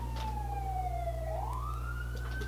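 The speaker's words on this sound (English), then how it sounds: "Go away, sirens." Emergency vehicle siren passing outside on a snowy, slushy street, one continuous wailing tone sliding slowly down and then rising again, steady and moderately loud with no talking.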